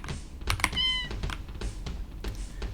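A cat being petted in the video game Deltarune gives one short meow amid soft keyboard typing and clicks, quiet and close.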